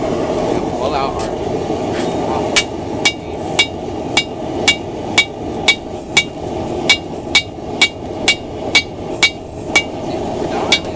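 A hammer strikes hot steel while a camp axe is hand forged, about twenty sharp ringing blows in a steady, evenly spaced rhythm over a constant background rumble.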